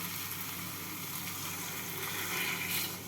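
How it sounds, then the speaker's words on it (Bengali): Water is poured into a hot pan of pointed gourd (potol) and prawns, giving a steady hissing, sizzling rush close by with no talk. "এবারের মধ্যে দিয়ে দেবো পরিমাণ মতো জল"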